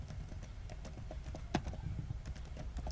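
A web address is typed on a keyboard with quick, close key taps at an uneven rhythm and one louder press, over a low room rumble and with no voices.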